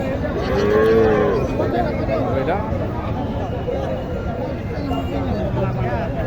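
Sahiwal cattle low at the Mataji market in Naogaon: a clear moo early on and a weaker one later, heard close against constant crowd murmur and people talking.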